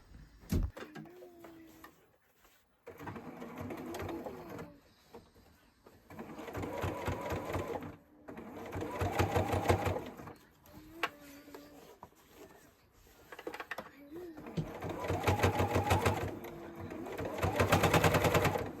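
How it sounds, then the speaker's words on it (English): A domestic sewing machine fitted with a zipper foot runs in several steady bursts while top stitching along a zipper over lining, its rapid needle rhythm starting and stopping with short pauses between runs. "then we're going to top stitch all the way down"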